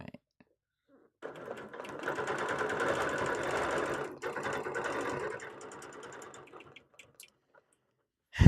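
A Bernina sewing machine stitches a quilt panel during ruler quilting, a rapid mechanical chatter that starts after a short pause, runs steadily for several seconds, breaks briefly, then slows and stops.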